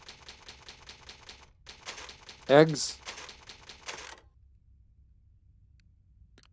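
Rapid run of mechanical typewriter keystrokes from the Resident Evil game on GameCube, a steady clatter lasting a few seconds with a louder burst near the end, heard under speech that continues alongside it.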